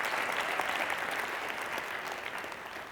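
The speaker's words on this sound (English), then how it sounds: "A big round of applause." Audience applause at a talks event, steady dense clapping from a crowd sustained evenly throughout at moderate loudness, with no speech over it.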